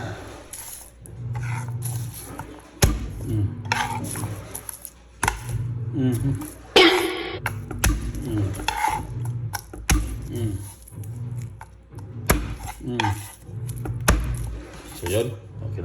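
Garlic chopped with a kitchen knife on a chopping board, giving irregular dull knocks and taps across the clip beneath someone talking throughout.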